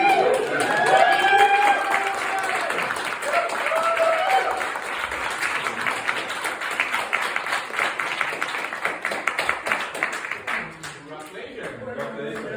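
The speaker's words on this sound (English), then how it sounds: "Let's just give him another round of applause." Applause at a Toastmasters meeting, a room of people clapping steadily with some cheering, loud at first then gradually fading, with a voice talking over it.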